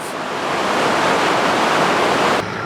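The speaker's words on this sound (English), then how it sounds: "The amount of water flowing south is absolutely exceptional." Heavy rushing of a swollen river running high after a lot of rain, a steady loud broadband roar close by with no break until it drops slightly near the end.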